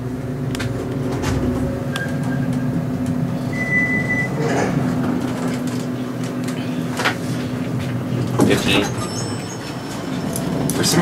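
A Dover traction elevator at an office tower in Richardson, Texas: doors slide shut with a few clunks, then the car hums and rumbles as it moves, with mechanical tones and a chime, while people talk faintly.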